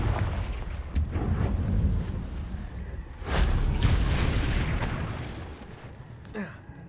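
A Confringo explosive spell in Hogwarts Legacy goes off in a few muffled blasts and booms, with a heavier burst near the middle and another toward the end, over a rumbling game soundscape.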